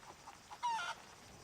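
A chicken in the SCUM video game gives a short, bright squawk after a few soft clucks, heard alone and fairly quiet.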